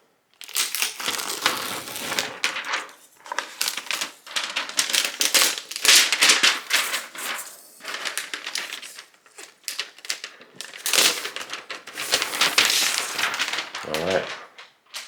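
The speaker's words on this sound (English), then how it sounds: "that ASMR removal of that plastic protective sleeve" Crinkly plastic protective sleeve being peeled and pulled off an Asus ROG Flow Z13 laptop, a long run of close, loud crackling and crumpling in bursts, with a brief voice near the end.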